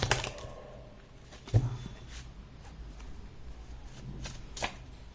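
Tarot cards being shuffled by hand, soft rapid riffling and flicking with a sharper knock partway through and a burst near the end, close and fairly quiet.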